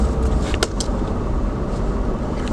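Car interior while driving, with a steady low engine and road rumble throughout and a brief clink near the start, close and continuous with no talk.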